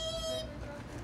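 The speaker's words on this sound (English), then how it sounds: "Now he's gonna honk his horn." A toy truck's horn gives a short tonal toot, heard close for under half a second before fading into background noise.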